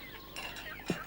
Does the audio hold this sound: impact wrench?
no